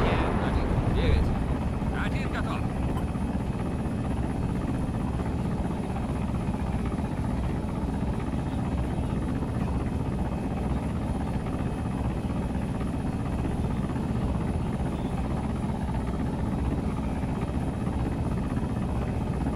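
A Mi-28N attack helicopter flying in the military game ARMA 3 gives a steady, dense rotor and turbine roar that holds at an even loudness throughout, with a brief rustle near the start.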